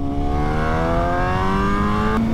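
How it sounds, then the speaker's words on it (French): A BMW S1000R motorcycle engine revs up steadily and loudly, its whine climbing in pitch over a couple of seconds before dropping sharply at the end. "heureusement ma moto fait tellement de bruit"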